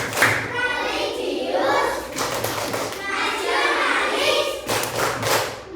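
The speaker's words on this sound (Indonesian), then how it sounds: "Kita tepuk PPK dulu. Tepuk PPK." An Indonesian primary class stands and performs the rhythmic 'tepuk PPK' clap chant, children's voices chanting in unison while a few sharp group claps and thumps land between the lines.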